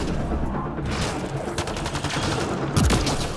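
Rapid shotgun blasts in Mass Effect: Andromeda, a sci-fi shooter, crack loudly and close in a dense burst of gunfire, with a heavier boom near the end.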